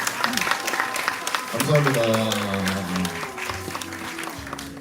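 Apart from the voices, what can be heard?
audience applause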